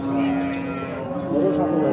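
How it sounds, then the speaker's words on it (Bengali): A Holstein Friesian cow moos in a long, low, sustained call close by at a cattle market, with a second lowing swell midway through the short stretch. "এটা হলস্টাইন ফ্রিজিয়ান জাতের গাভী"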